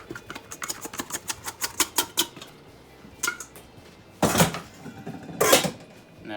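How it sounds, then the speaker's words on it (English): A scraper rasps and taps in a quick run of short strokes, lifting sticky pecan bun dough off a bowl onto a kitchen counter, followed by a couple of louder scuffs and thumps as the dough is pulled out. "Just going to scrape all these lovely bits off of here. and pull it all out onto the counter."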